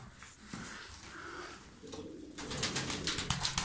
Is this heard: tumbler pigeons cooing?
yes